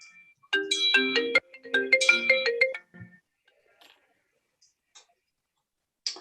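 A mobile phone ringtone goes off during a council meeting, a bright melodic tone pattern playing clearly for a few seconds, then cutting off into near silence with a couple of faint ticks.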